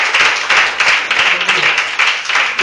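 A church congregation claps together during a Sunday service, a loud, dense patter of hands sustained throughout with brief swells, a voice faintly audible beneath.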